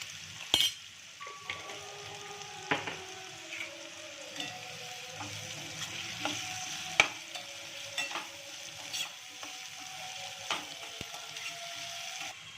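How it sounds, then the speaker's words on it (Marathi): Onion and potato sautéing in a pan for a fenugreek potato dish, with a soft steady sizzle and occasional utensil scrapes and taps, quiet and close. "कांदा आणि बटाटा चांगला परतून झाले"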